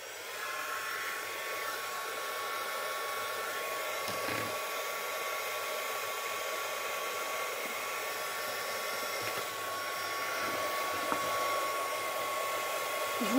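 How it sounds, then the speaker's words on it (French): A heat gun blows hot air steadily over the powdery surface of a succulent potting arrangement, producing a soft, even, continuous whooshing hiss with a faint whine throughout and no speech. "Et on va passer au pistolet chauffant."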